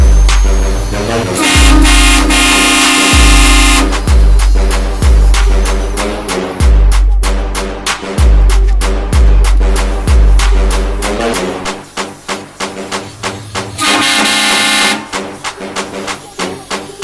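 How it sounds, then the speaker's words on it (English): A Hornblaster XL train horn kit on a Cummins-powered rat rod blasts loud, brassy chord tones in a series of repeated short honks, then a few longer sustained blasts, close and dominating. "Working on mounting this Hornblaster XL train horn kit."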